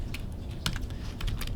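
Quick, light clicks of typing on a computer keyboard while entering a record into a Microsoft Access database, a short burst of keystrokes heard up close over a steady background hiss.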